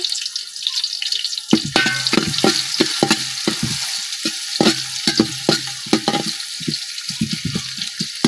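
Chopped onion fries in hot oil with bay leaves and cumin, a close, crackling sizzle broken by repeated sharp stirring scrapes and clicks in an uneven rhythm, with no talking.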